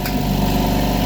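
The first motor of an SGCB sggf188 multi-motor air compressor starts with a brief knock, then settles into a loud, steady mechanical hum with a buzzing tone, close up and with no talking.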